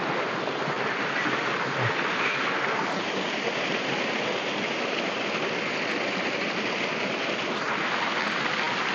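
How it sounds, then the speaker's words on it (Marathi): A flowing waterfall in lush green countryside gives off a steady, loud broadband rush of falling water that holds unbroken throughout, with no voices heard. "धबधबा"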